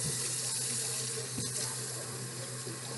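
Water runs from a kitchen tap in a steady, even hiss, close by and fairly quiet, with no voices over it.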